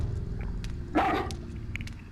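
Dog barking in the survival horror video game Haunting Ground, a single short bark midway over a steady low background drone, moderately loud.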